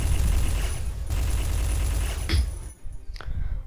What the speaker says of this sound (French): ce minigun là, il faut savoir que ça fait des dégâts de zone